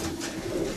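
A pigeon coos in a pigeon loft, a single soft, low, close call heard alone.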